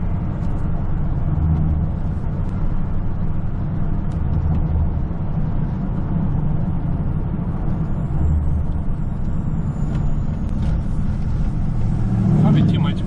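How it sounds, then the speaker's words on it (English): Steady broadband wind rush fills the cab of an old pickup truck driving with the window down, a continuous low roar of air and road noise with engine rumble underneath and no clear voices. "Probably too much wind noise because I got the window down in this old pickup truck of mine."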